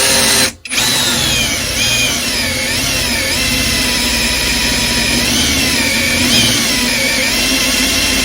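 A Topshak 20V cordless drill bores a hole with cutting oil, a loud, close, sustained motor whine with pitch wobbling under load after a brief start-up gap, no talking.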